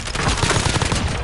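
Sustained bursts of automatic weapon fire in the Call of Duty: Warzone battle royale, loud, close and overlapping throughout the short stretch.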